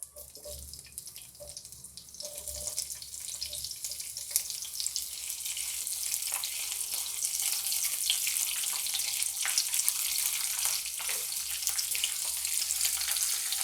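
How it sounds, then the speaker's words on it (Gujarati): Chopped chillies frying in a spoonful of hot oil for a mixed carrot, radish and chilli pickle, a steady close hiss that swells and stays dense, with a few faint clinks early on. "હવે સમારેલા મરચાં એડ કરીશું।"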